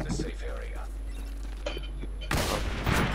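Gunfire in the survival shooter game The Decaying Winter, a burst of loud shots near the end over a steady background, with people talking over the game sounds.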